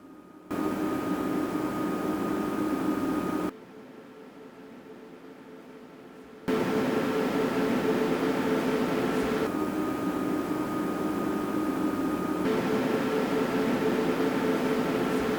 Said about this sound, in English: Those fans here are spinning like crazy compared to light wings.